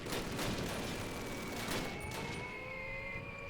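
Continuous machine-gun fire from an MG42 in the 2003 Call of Duty, a dense rattling fusillade holding steady and loud throughout with no voices.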